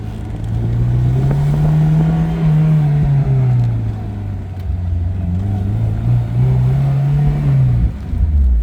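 A 2005 Honda S2000 roadster's engine revs hard while accelerating through the gears, a loud, close, continuous drone that climbs, dips at shifts and climbs again across several seconds.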